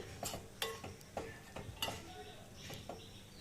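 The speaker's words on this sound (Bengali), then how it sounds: "এবার আমি এই সময় লেবুর রসটা দিয়ে দিচ্ছি। নাড়িয়ে নিচ্ছি।" A spoon stirs lemon juice into a pot of mixed fruit chutney with a series of soft clinks and scrapes against the pan, close and quiet, arriving in an uneven rhythm.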